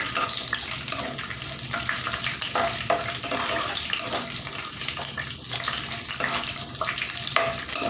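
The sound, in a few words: cashew nuts frying in hot oil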